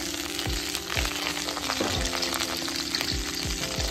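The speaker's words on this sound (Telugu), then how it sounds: "దీనిలో 1 చిటికెడు సాల్ట్, 1 చిటికెడు పసుపు పొడి, కొద్దిగా కారపొడి వేసి కొంచెం సేపు వేయించేసుకోవాలి." Boiled eggs fry in ghee in a kadai with a steady close sizzle, and a spoon stirs and scrapes against the pan in regular taps.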